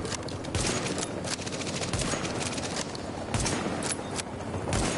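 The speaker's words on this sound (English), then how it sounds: "Someone's shooting me." Sniper gunfire in The Division video game, rapid bursts of shots in clusters, sharp cracks repeating over a few seconds at moderate distance amid game ambience.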